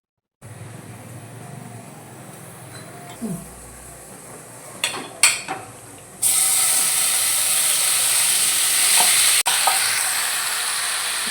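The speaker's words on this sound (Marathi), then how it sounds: "कढईमध्ये ना मॅरिनेशन जे करून ठेवलं होतं ना आपण ते सगळं चांगलं एकदम परतून घेतलं" Marinated paneer sizzles and scrapes in a hot wok, with clattering stirring strokes, then a loud steady frying hiss takes over for the last few seconds.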